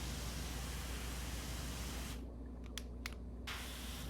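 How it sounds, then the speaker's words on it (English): A pressure washer sprays steadily while washing the outside of a house, a loud, constant broadband hiss that dulls briefly in the middle before returning at full strength. "So you have like the spraying noise, as if you were like running a faucet or like the shower."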